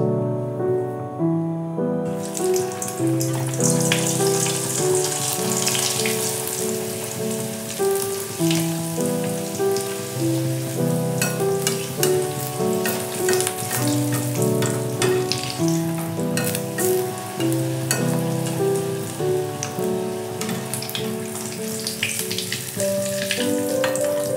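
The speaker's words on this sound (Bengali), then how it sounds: "দেখো তেলটা গরম হয়ে গেছে, এবার আমি ভেজে নিচ্ছি।" Pea-stuffed kochuri deep frying in hot oil make a loud, continuous close-up sizzle and crackle with soft bubbling, steady throughout with no talk.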